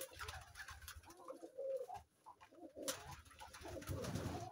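Trumpeter pigeons coo in soft, rolling, trumpet-like calls, several birds overlapping close by with rustling and scattered noises between.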